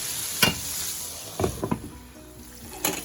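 Chicken frying in a covered pan on a stovetop over medium heat, a steady soft sizzle with a few sharper crackles and pops scattered throughout.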